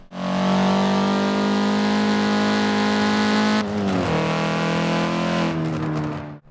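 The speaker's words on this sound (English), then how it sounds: "after listening to the engine noise in the background, I was more than content to drive with the in-game sound right up" Honda Civic Type R (Forza Edition) engine in Forza Motorsport 7, a loud sustained high-revving drone that holds steady, briefly dips with a gearshift, then climbs again, alone with no talk.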